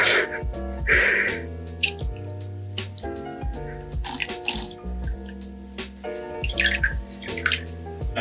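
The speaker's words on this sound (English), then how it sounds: "I added extra water to the container just to get the left of that indigo in there" Water pours and splashes into a container of natural indigo dye, dribbling and trickling irregularly over a steady low background hum.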